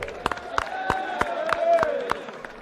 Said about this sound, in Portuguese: O nosso aplauso à União Brasil